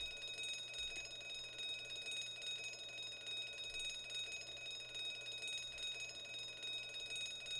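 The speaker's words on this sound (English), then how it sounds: "Just gonna sit here in awkward silence with a bell ringing" A bell rings on and on in The Great Ace Attorney Adventures, a faint, steady electric trill with high ringing tones throughout, alone without talk.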